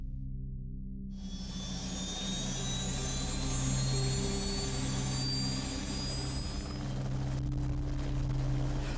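A loud police helicopter engine roar near Leeds railway station, with a rising whine and steady low rotor drone, close overhead and constant throughout.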